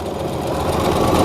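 A Singer Start 1306 sewing machine stitches a decorative pattern, its steady mechanical whir running continuously and close at hand with no talking over it.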